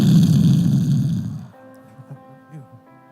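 A man loudly imitates his wife's snoring with a rough, rumbling snore, then it drops to quieter breathy snorts and grunts.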